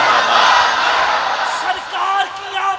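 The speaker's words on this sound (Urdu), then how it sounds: "ڈٹ کے نعرے دا جواب دے" A large crowd at a Rabi ul Awwal religious gathering shouts back in unison to a devotional slogan, a loud sustained roar of massed voices with whoops rising and falling throughout.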